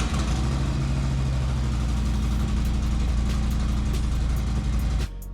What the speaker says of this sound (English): we're gonna make sure the bike starts